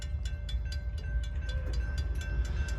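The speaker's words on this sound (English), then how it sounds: "This has to be the Amtrak" An Amtrak passenger train passing along the line at Bayview Road in Blasdell, New York, a steady loud rumble with regular rail clicks and a faint high whine running throughout, no talk.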